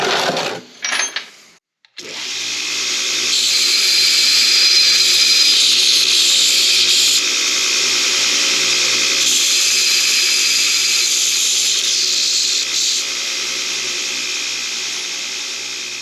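A power grinder rounding off the cut edges of rebar pieces for a reindeer sculpture, a short start and stop followed by a loud, sustained high-pitched whine of abrasive on steel running continuously to the end.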